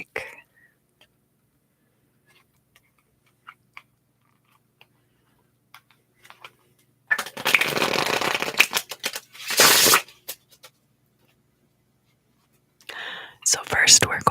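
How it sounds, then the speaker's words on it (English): Plastic PVC tarot cards are shuffled in a quiet room, giving two dense bursts of crisp riffling and flapping, then a shorter flurry near the end, with soft faint clicks and handling sounds between. "They are plastic PVC tarot cards. And I like the noises that they make."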